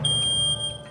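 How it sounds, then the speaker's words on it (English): Photoelectric smoke detector sounding its alarm in an indoor test room: a piercing, continuous high-pitched electronic tone, loud and near, heard alone for under a second. "the photoelectric sounds the alarm"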